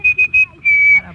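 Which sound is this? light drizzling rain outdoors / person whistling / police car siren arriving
person whistling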